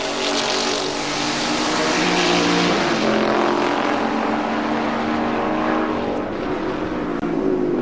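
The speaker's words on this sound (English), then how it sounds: "Well, clearly, Bob, it's the closest race of the day so far for the win." Historic Porsche race cars howl past at the Monterey Historics, engines loud and continuous, with several cars blending into one sustained roar as they pass through the infield corners.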